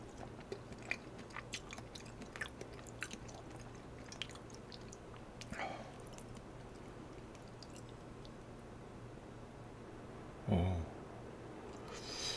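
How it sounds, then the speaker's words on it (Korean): Crisp vegetables from a beef shabu shabu meal are chewed close to the mic in a quiet room, with repeated soft crunches and bites and one louder moist squish near the end. "야채가 되게 아삭하니 맛있어요."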